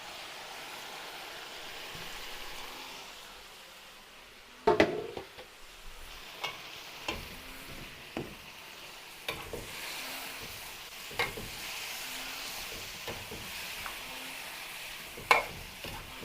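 Marinated meat for apretada hits a pan and sizzles steadily, with a low continuous frying hiss punctuated by sharp clanks and scrapes of a spoon stirring against the pan.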